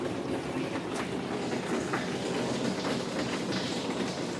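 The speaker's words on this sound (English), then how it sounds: "That's a lot of rain." Heavy rain running through a gutter system and downspout into an IBC tank, a dense, steady, broadband wash of falling and splashing water heard alone throughout.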